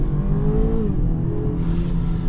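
A BMW X3 xDrive30i at full throttle, engine note rising steadily then dipping at a quick upshift before climbing again, loud and continuous from inside the cabin with no talking.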